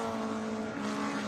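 Historic race car accelerating out of the chicane at Goodwood during the Lavant Cup at SpeedWeek 2020, a loud, sustained engine drone passing close by with a steady pitch that shifts slightly as it goes.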